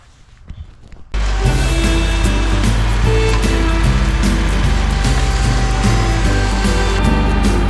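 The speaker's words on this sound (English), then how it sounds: "Let me get this chainsaw out and get these little ones down." A chainsaw roars to life after a second of rustling and then runs loud and steady while cutting down small trees, its engine whine filling the whole stretch close by.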